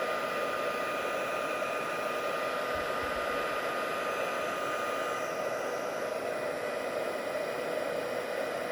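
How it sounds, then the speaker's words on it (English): A heat gun blows hot air to set embossing powder, giving a loud, steady, unbroken whooshing whir that runs the whole time with no talking. "heat up my glue gun, and then we'll just go in and set this"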